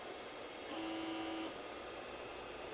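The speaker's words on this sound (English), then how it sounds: "I run it, so the shaft is spinning" An Orangestorm Giga 3D printer motor spins the X shaft with a steady high whine for under a second, then stops, faint over a low room hiss.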